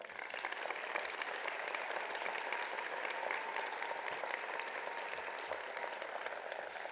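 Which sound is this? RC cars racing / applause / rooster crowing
applause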